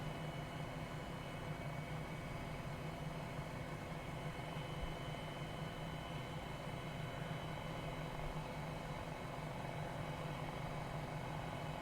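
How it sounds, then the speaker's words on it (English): An MD500 helicopter drones in a flight simulator in a steady, even rotor and engine hum that stays faint and unchanging throughout, with no voices. "nice helicopter."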